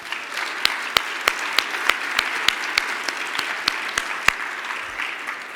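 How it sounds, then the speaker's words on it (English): An event audience gives a round of applause for honorees, with steady clapping and a few sharp claps standing out throughout before it thins out. "Please give them another round of applause."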